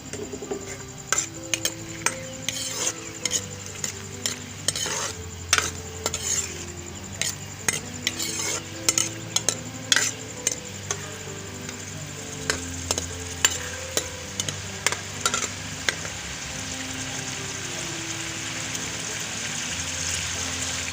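Onions sizzle steadily in a pan while a utensil repeatedly scrapes and clinks against it, irregular stirring strokes over a continuous frying hiss.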